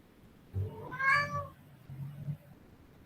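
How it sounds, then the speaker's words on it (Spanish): A single cat meows twice, close and clear, the first call long and rising-falling, the second shorter and softer, heard alone in an otherwise quiet room. "Me apareció el gato."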